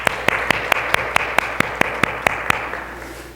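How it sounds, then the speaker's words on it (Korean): A church congregation applauds in welcome during a Sunday service, a dozen crisp, evenly spaced claps falling in unison over a soft wash of scattered clapping that fades at the end. "일단 우리 환영의 박수 하시겠습니다."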